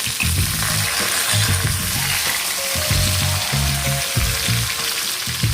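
Cucumber, potato and aubergine frying together in a pan, a steady loud sizzle running throughout with low rhythmic scraping and stirring thuds beneath it.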